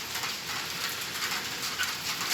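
Heavy rain pours steadily around a building, a dense, even hiss with no breaks and no voices.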